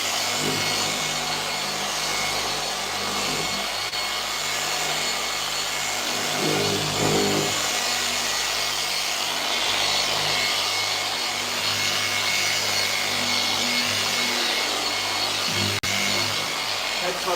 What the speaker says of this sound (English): very, very lightly machine polish this entire section